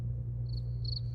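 Crickets chirping in short high trills, a faint brief burst followed by a stronger one, over a steady low hum.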